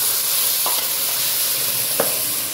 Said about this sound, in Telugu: ఇంకా బాగా వేగిన తర్వాత ఈ టమాటా ప్యూరీ వేసేద్దాం.